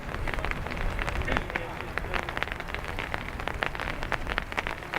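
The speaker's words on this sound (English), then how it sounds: "That noise you're hearing is the rain hitting the umbrella," Heavy rain drumming on an umbrella at Dublin Airport, a dense continuous patter of close drops with sharper taps scattered through it and no talk.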